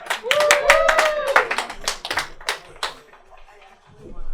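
A small live comedy crowd claps for a comedian taking the stage, the claps sparse and distinct rather than a dense roar, with a voice briefly heard over them before the clapping fades out.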